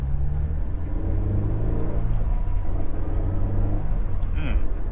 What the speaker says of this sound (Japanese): エンジンの吹き上がりもやっぱいいですね。